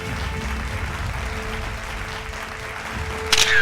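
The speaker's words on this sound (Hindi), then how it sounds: "जोरदार तालियां" Applause from an audience at a formal industrial business event in Meerut, steady and moderately loud throughout, with a brief louder burst near the end.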